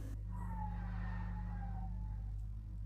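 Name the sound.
concrete truck working next door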